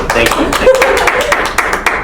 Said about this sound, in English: Is it weird I'm clapping for myself?